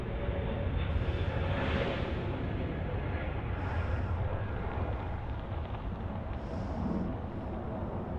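A Delta airliner taking off from Los Angeles airport, a heavy broadband jet roar that stays loud and steady across the whole stretch, with faint higher whines rising and fading.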